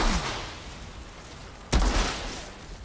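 Gunfire in the shooter video game Outriders, one sharp close burst after a softer rumbling stretch, then a decaying tail, with no voices.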